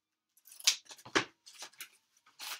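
Scissors cut through craft material for a robin bird mask, giving a series of crisp, close snips in an irregular rhythm with short pauses between them.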